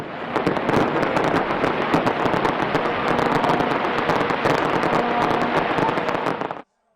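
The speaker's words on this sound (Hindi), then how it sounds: "साले नौ की खुशियां मनाने के लिए ऑकलैंड में शानदार आतिशबाजी का मुजाहरा किया गया" New Year fireworks display over Auckland, a dense, continuous barrage of crackling bursts and rapid pops lasting several seconds before cutting off abruptly.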